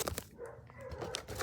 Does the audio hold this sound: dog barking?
yes